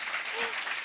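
Audience applause at a Korean talk show taping, a short burst of steady dense clapping from a crowd, moderately loud with no talk over it.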